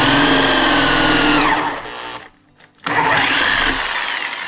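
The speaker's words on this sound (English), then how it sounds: "I don't want to drill this all the way through either" A power drill bores into a 2x4 board, a loud steady whine that cuts out briefly in the middle and then resumes, close and without any talking.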